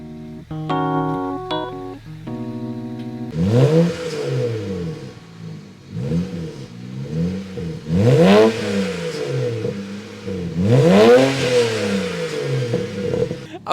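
BMW 335i fitted with a VRSF catless downpipe, revved hard several times in a row, each rise loud and close with a rough, rasping exhaust note and a pause between pulls, after a short electronic tone at the start.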